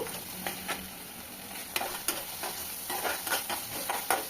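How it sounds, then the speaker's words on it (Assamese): Masala paste frying and sizzling in oil for a fish masala, with a steady hiss broken by sharp scraping clicks of a spoon stirring the pan, close and alone. "সেইখিনি সময়লৈকে ভাজিব লাগিব, এনেকৈ তেল ওলোৱালৈকে।"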